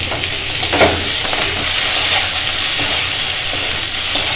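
Spices and cumin fry in a pan with a steady, close sizzle and hiss, broken by occasional stirring scrapes.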